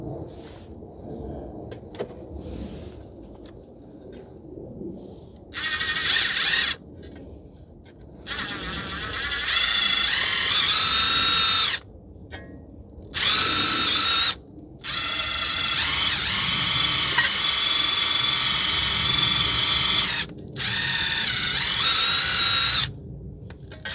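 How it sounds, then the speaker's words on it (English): A power drill spins a bristle brush in repeated bursts of several seconds each, a loud high whirring buzz separated by short pauses, while working on a 2012 Toyota Corolla 1.8 with an anti-lock brake fault. "So I'm going to see if this works by using the drill."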